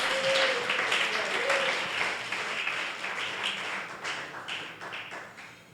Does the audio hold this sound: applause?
yes